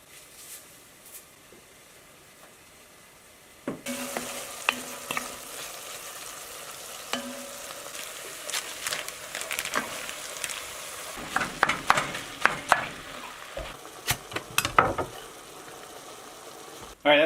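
Ground moose meat and tomato sauce cooking in a pan in a cabin kitchen: a quiet stretch gives way to steady sizzling and bubbling, with stirring clatter and scrapes growing busier toward the end.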